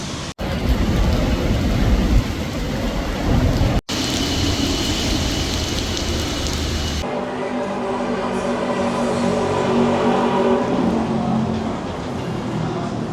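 Steady rain in Kuala Lumpur, a dense broadband hiss that holds loud and even from start to end, with a slight change in texture partway through and no voices.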